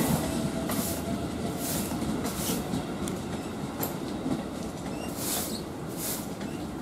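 A KRL electric commuter train, series 57 bound for Bogor, rolls past with a steady loud rumble and rhythmic wheel clatter on the rails. The sound holds at the same level throughout, with no voices.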